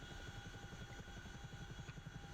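Steady rotor and turbine drone of a Chinook helicopter in the DCS World flight simulator, with rapid rhythmic blade thumping under a continuous engine whine, loud and close with no talk.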